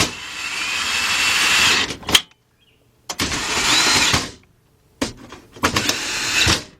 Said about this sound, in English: Now I'm going to go around with our 10mm and tighten them all up.